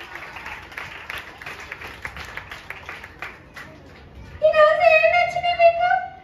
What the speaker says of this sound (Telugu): చప్పట్లు అందుకోటండి.